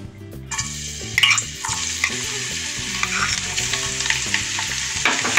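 Chopped garlic sizzles and crackles in hot sunflower oil, a steady close frying hiss with occasional scraping stirs, no talking.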